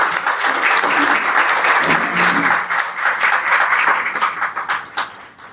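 Audience applauding at a Nashr-e Afkar book launch, a dense, loud wash of many hands clapping that holds steady for several seconds before thinning out near the end, with no voices over it.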